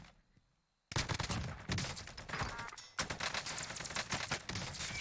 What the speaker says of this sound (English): Great shots, great gun control too.